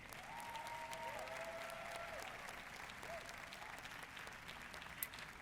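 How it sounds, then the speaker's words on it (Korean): A church audience breaks into steady applause, many hands clapping together in a sustained, fairly distant wash, with a faint voice or tone drifting through early on and one sharp knock near the end. "지금 박수를 보내기 바랍니다."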